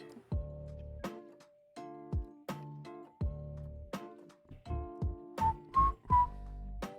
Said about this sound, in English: I love a good whistle, but it's not good for the mics